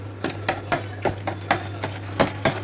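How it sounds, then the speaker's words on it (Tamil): A spoon stirring and mixing a yogurt, milk and chili spice marinade for chicken in a bowl, quick regular clinking scrapes in a steady rhythm, close and fairly loud over a constant low hum. "நல்லா மிக்ஸ் பண்ணிக்கலாம்"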